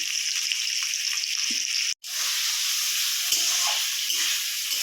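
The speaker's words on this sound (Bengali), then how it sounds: "পেঁয়াজটাকে লাল লাল করে ভাজতে হবে।" Onions, salted and sprinkled with a few grains of sugar, fry in a pan in a home kitchen, giving a steady close sizzle with a few soft clinks and one brief break.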